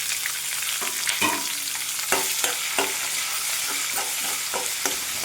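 Sliced onions and green chillies frying in oil with crushed garlic and curry leaves for a chana dal and ridge gourd curry, a steady sizzle broken by repeated scrapes of a spatula stirring the pan, close and clear with no talking.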